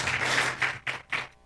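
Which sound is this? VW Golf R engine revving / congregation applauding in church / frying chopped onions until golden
congregation applauding in church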